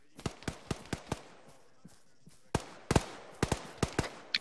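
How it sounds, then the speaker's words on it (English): Gunfire in a military realism video game, heard as a string of sharp, separate shots in uneven bursts, some fairly close and others softer and farther off, with quiet gaps between them. "I'm hearing shots over this hill."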